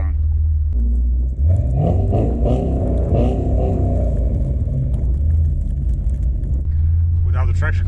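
A Pontiac G8 GT drives slowly along a snowy road, its engine a continuous deep rumble with a brief surge in revs, while someone talks over it.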